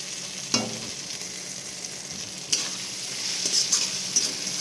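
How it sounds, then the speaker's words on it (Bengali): Goat meat trimmings and fat fry with masala in a pan, a steady close sizzle broken by a few sharp scrapes and clunks of the stirring spoon, with no talking. "অল্প অল্প করে জল দিয়ে এটাকে কন্টিনিউ ভালো করে কষিয়ে নিতে হবে এই যে তেলটা ছাড়ছে"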